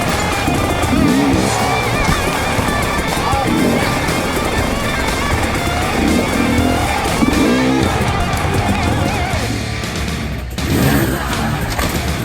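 A 2019 Husqvarna TE300i dirt bike throttles hard across loose sand, its engine a dense continuous roar with shifting pitch and gritty wheel-spin noise, loud and near, a brief lull near the end.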